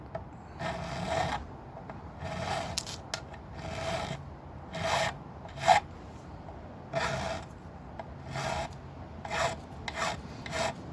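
A flat file rasps along the wooden edge of a Goldtop Les Paul guitar body under construction, in a steady series of close, rhythmic back-and-forth strokes with short pauses between them.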